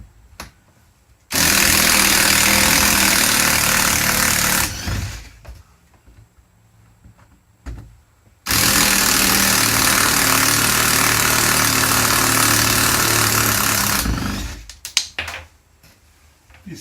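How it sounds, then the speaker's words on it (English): A small power screwdriver drives screws while converting a shuttle bus into an RV, with two long, loud, steady whirring runs separated by a pause and a few clicks. "I'm going to use my little power screwdriver, because I do not want to strip this thing."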